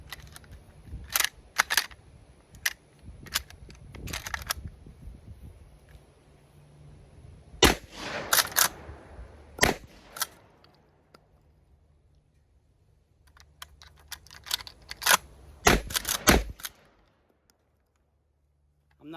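Several sharp gunshots from a Winchester lever-action 12 gauge shotgun: a scattered series of loud reports, then a rapid cluster mid-clip and another fast group near the end, with quiet gaps between.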